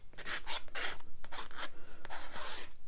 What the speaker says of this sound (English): You can take your credit card, if you have a credit card, and play around with scraping.